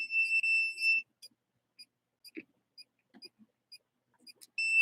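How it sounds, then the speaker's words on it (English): A home monitoring alarm gives high, piercing electronic beeps, a sustained tone at the start and again at the end with short chirps scattered between, all set against near silence. "That's the alarm."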